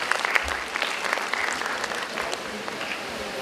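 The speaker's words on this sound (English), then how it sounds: "Let's give her a huge round of applause." Conference audience applauding in a steady, even spatter of many hands, continuous at moderate loudness from start to finish.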